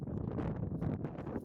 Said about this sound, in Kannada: ಫುಲ್ಲು ಗಾಳಿ.